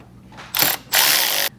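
A ratchet tightens a nut on a battery terminal of a 2024 Toyota Tacoma, giving two quick, close, buzzing clicking bursts, the second one longer.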